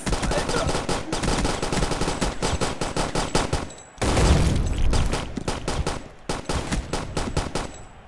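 Rapid bursts of automatic gunfire from the shooter game Boring Man, dense clattering volleys that pause briefly near the middle, then resume with continuous rattling shots and a heavier blast, with no talk over them.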